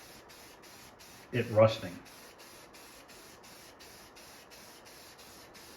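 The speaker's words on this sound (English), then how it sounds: "you have to spray it more than one direction because you don't get all the way in the holes if you don't." Speaker mesh on a Smash TV arcade cabinet is spray painted, giving a steady aerosol hiss that runs throughout, with a brief spoken remark near the start.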